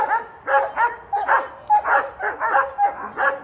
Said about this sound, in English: The dogs go to barking.